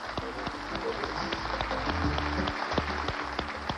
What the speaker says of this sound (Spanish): Este aplauso para vos, Rubén.